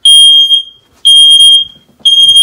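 A Nest Protect smoke alarm set off by smoke spray sounds three loud, shrill, steady beeps of about half a second each, spaced one second apart, with nothing else audible.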